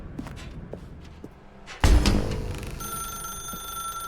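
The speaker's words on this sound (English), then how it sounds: "Now pick up the phone" A telephone rings inside a dark room in The Stanley Parable Ultra Deluxe, a loud bright ring bursting in after quieter footsteps and thuds, then continuing as a sustained electronic tone.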